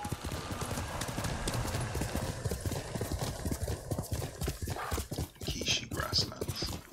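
Horse hooves galloping in the video game Ghost of Tsushima, a rapid steady clip-clop rhythm of hoofbeats running throughout, with a snort or whinny and soft game sounds over it.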